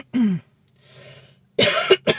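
A person coughs a few times close up, short harsh bursts separated by a quiet raspy breath.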